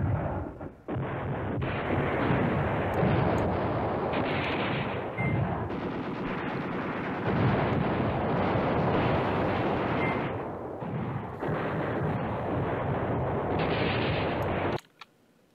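Bombing in the WWII strategy game Command Ops 2, a long, loud, continuous barrage of overlapping explosions and rumbling blasts that cuts off abruptly at the end.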